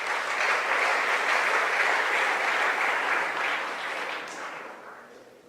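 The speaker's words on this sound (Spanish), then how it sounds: "les pido por favor un aplauso de bienvenida a Germán y Cristo" Warm audience applause welcoming speakers at a security talk on OSINT, a full steady clapping from the crowd that holds for several seconds and then tapers off toward the end, with no speech over it.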